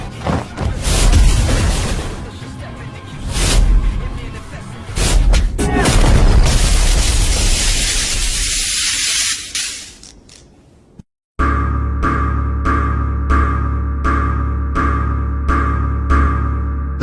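Explosion in an animated fight, heavy booming blasts and roaring bursts filling the first ten seconds before fading out, then a sharp cut to a loud, rhythmic pulsing effect with repeated hits.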